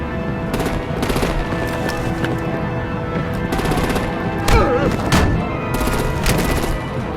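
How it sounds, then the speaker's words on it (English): Video game battle with rapid machine-gun bursts and scattered gunshots crackling over a busy background, with a couple of heavier booms from artillery fire; dense, continuous and fairly loud, with game voices faintly mixed in. "Break out the artillery and disable their vehicles!"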